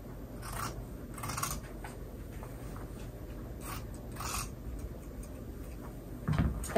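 Scissors snip at the corners of pillow fabric, a few quiet, crisp cuts in short bursts against a soft room background.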